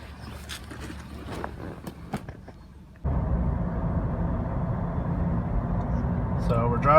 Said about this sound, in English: So we're driving the car now.